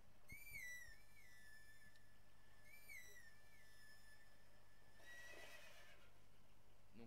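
Epona the horse whinnies in The Legend of Zelda: Twilight Princess, answering a call, with two clear rising-and-falling neighs over a steady game ambience, followed by a brief rustling burst.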